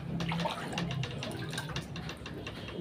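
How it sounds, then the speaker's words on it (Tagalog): Floodwater inside a room during a typhoon, a steady close rushing and splashing of water with a low hum beneath, continuous throughout without speech. "umakyat na po yung tubig dito sa loob ng kwarto"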